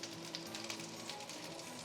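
Meatballs sizzle in a hot pan as a second batch cooks, with a steady, faint crackling hiss and tiny pops throughout.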